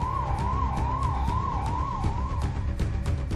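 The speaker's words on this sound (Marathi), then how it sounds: "भोंगा वाजलाय, सायरन वाजलेला आहे" Wailing emergency siren sounding during a COVID lockdown in Hingoli, its pitch rising and falling steadily for a few seconds over constant traffic and street rumble, then fading out of the mix.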